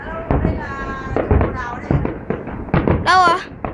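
Fireworks are launched over Tam Bac lake in Hai Phong, with several muffled bangs and pops heard at a distance while people talk excitedly nearby, and a whistling rocket climbing near the end.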